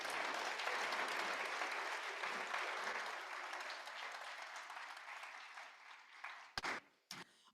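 A seated audience applauds, a dense wash of clapping that slowly fades, ending in a few scattered, isolated claps.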